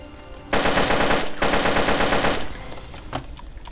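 Rapid automatic gunfire in DayZ Standalone, two loud close bursts of quick successive shots separated by a short break, then fading into quieter ambience.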